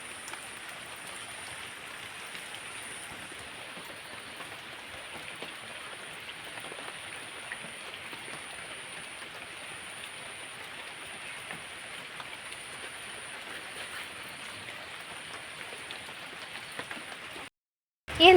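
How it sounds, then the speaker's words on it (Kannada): Steady rain keeps falling outside a rural home in the afternoon, a dense and even patter that goes on without a break. It cuts off just before the end, then a brief louder noise comes in. "ಇವಾಗಲೂ ಮಳೆ ಬರ್ತಾ ಉಂಟು."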